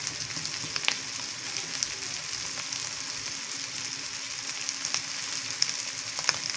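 Spice powders of coriander, Kashmiri chili, turmeric and chaat masala roasting in a pan for sago pulao, giving a steady, even sizzle with a few faint clicks and no talking.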